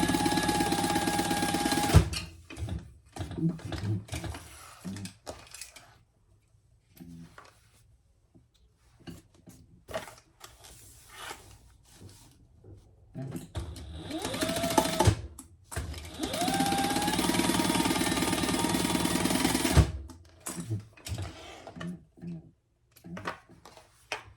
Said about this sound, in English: Stitch that close on the sides only.